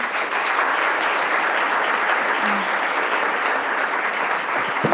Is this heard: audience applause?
yes